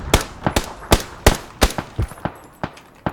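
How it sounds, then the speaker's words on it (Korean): Rapid bursts of gunfire in the video game PUBG on the snowy Vikendi map: about ten sharp, close shots in an irregular rhythm, mostly single cracks with short gaps, loud and clear with no talk over them. "한명 쏘고 있었잖아"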